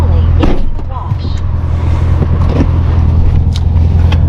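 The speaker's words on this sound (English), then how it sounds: "These touchless car washes are low-key a vibe." A touchless car wash runs with a steady broadband wash of spraying water and machinery, heard from inside the car, with a constant low hum and occasional louder bursts and hisses throughout.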